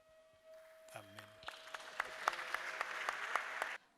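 A church congregation at a Fathers Union Day service claps in a steady rhythmic beat, sharp regular hand claps building after a short voice and sung tone at the start, then stopping abruptly.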